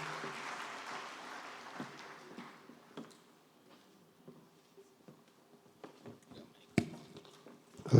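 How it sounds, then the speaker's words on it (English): Audience applause for a special needs teacher at a national teachers summit in Nigeria, a soft, scattered patter of clapping that thins out over several seconds, with a few sharper thumps near the end. "please, a round of applause for Dahiru"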